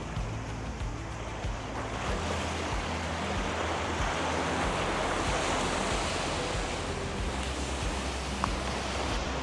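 Sea waves surge and break at Delta Point Beach where the Swarna river meets the sea, a broad continuous roar of surf mixed with wind rumble, no voices.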